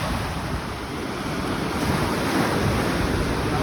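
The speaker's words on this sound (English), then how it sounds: "I will show you the formation of swells and then breakers and surfs." Ocean surf breaks along Vizag beach in a continuous broad roar of waves, loud and close, with some wind buffeting the microphone and no voices.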